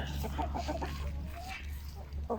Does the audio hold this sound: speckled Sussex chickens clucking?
yes